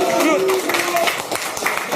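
A crowd at a battle-rap event claps and cheers in short bursts, with voices shouting through the noise.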